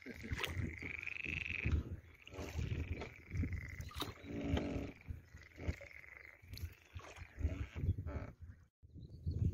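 Frogs croak in a loud, dense chorus by the water on a summer pike-fishing trip, rippling and overlapping continuously, with a faint voice now and then.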